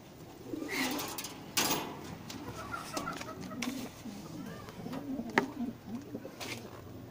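Pigeons coo softly in a low, rolling rhythm near their nest, a few birds calling repeatedly at close range, with faint clucks and background shuffling.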